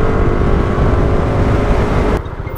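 A loud scooter engine drones and revs steadily up close, then drops off sharply near the end.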